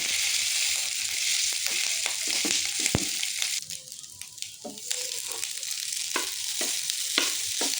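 Leftover rice and garlic frying in a pan, a steady close sizzle with frequent scraping stirs and clinks of a utensil against the pan throughout.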